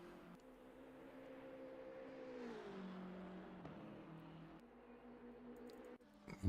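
A race car in Assetto Corsa Competizione runs at Monza at night, its engine a steady tonal drone whose pitch dips and rises through gear changes, fairly faint, before a sudden louder burst at the end.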